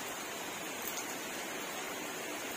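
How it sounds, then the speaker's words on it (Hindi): Heavy rain falling, a dense, steady hiss of downpour that fills the whole stretch at an even level with no voices. "ये देखो कितनी तेज बारिश आ रही है"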